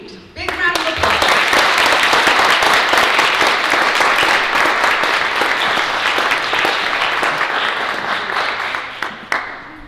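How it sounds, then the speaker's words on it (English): Audience applause at a school committee awards night fills the room: loud, sustained clapping from a crowd that starts abruptly, holds steady, then thins out toward the end. "big round of applause"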